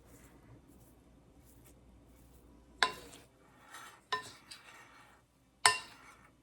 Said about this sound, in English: I'm just going to mix it all together well.